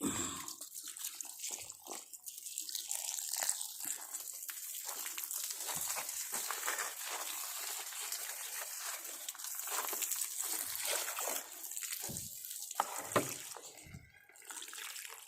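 Water splashing and trickling into a pot planted with a lotus, a soft, uneven pouring with small bursts and gurgles, fairly faint and close by.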